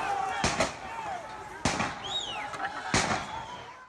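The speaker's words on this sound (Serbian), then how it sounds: "Potom su se začuli pucnji." Three sharp gunshot-like cracks ring out about once a second during clashes between police and supporters of Kyrgyzstan's former president near Bishkek, each loud and echoing, with a faint whistle-like sound between them.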